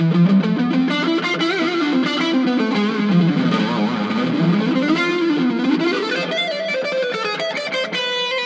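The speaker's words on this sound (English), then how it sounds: "If you add the distortion, I love that rusty." Heavily distorted electric guitar on the bridge pickup plays a sustained, buzzing melodic line, loud and saturated, with no talking over it.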